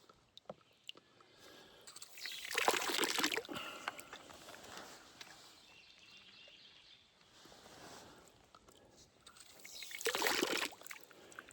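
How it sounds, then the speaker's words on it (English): Water trickles and splashes while a Pathfinder water filter is back flushed, two louder bursts of pouring a few seconds apart with quieter dribbling between, fairly close. "And I'll do that a couple, 3 times to back flush the filter."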